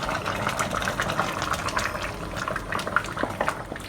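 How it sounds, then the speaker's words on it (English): Curry vegetables for lontong boiling in a pot on the stove, giving a steady, dense bubbling and simmering sound that carries on without pause through the whole stretch. "Right, it's boiling already."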